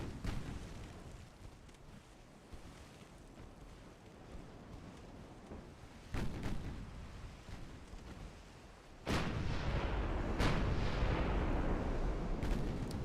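Warship turrets fire in the naval game Ultimate Admiral: Dreadnoughts, heavy booming blasts landing at about 6 and 9 seconds, the second louder and followed by a sustained roar under a low rumbling background.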